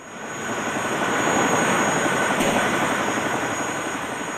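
A South Vietnamese Air Force helicopter at Kontum in 1972 flies off empty after dropping rice, its engine and rotor roar rising to a broad, steady rush and then easing slightly, with no voices.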